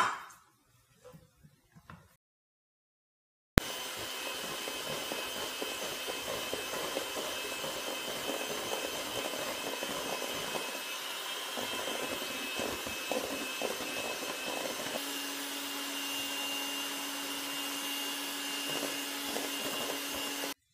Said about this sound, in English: So after we mix the egg with sugar and it's light yellow